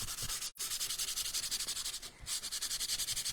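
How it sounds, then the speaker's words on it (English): Sandpaper is rubbed by hand over a painted furniture surface to buff it, with steady back-and-forth strokes close by and one short pause partway through. "So I just buff the surface."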